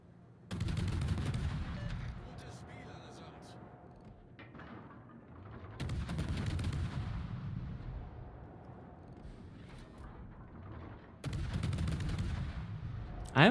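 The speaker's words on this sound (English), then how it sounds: "And more shells coming in." Incoming naval shells and gunfire in World of Warships: three heavy, booming salvos a few seconds apart, each a loud broadband blast that rumbles and decays before the next volley lands.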